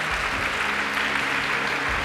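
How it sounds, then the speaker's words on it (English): A business conference audience at an HR session gives a short burst of dense, steady clapping that carries through without any speech. "can we give it a big, big round,"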